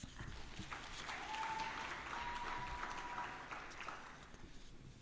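Applause from an audience at a women and girls in cyber event at BICC, Lilongwe, a sustained wash of clapping from a sizeable crowd heard at moderate distance, steady throughout and tapering slightly at the end.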